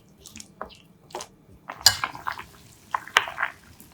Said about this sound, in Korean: 골고루 저어주세요.